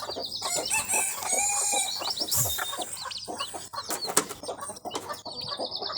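A busy chorus of turkey poults peeping and calling, with clucking, wing flapping and chirps overlapping close by throughout.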